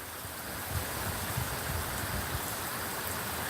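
Heavy rain from a sudden pop-up summer storm in southern Virginia pours down in a dense, steady hiss, a constant broad wash of falling water without voices.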